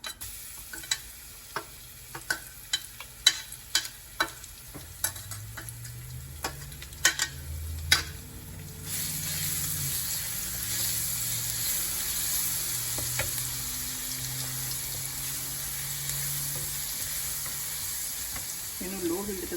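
Garlic paste frying over low heat in a pan for rajma, a steady close sizzle with brief stirring clicks and scrapes early on, settling into a continuous soft hiss, no voices.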